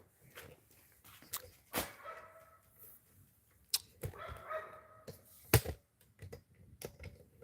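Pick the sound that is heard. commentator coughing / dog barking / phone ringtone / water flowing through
dog barking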